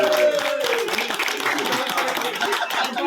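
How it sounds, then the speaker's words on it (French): Applause for the kitchen staff at a festive outdoor meal among the vineyards, a dense, steady patter of many hands clapping throughout with crowd noise and a few voices mixed in. "on peut applaudir les cuisines quand même"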